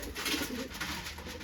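A large pigeon cooing close by, soft low throaty coos rolling continuously over a faint background hum.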